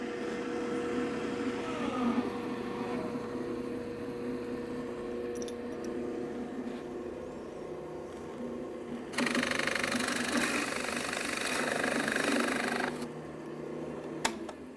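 A RIKON floor drill press turns a Forstner bit far too fast, giving a steady close motor whine and hum. Partway through, a brighter, harsher layer of cutting noise joins in and lasts several seconds before dropping back, with no talking.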